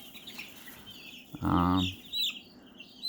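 A young rooster lets out one short, squawking call up close, followed by a softer sound, over faint background noise.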